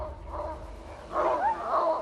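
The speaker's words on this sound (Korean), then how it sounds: "정서적인 불안에 의한 짖음이 아니라면 대체 루이가 짖음을 통해 말하고자 하는 게 뭘까요?" A dog gives short, high yips and barks, close by and fairly loud, a brief pair of outbursts after a quieter whine-like start.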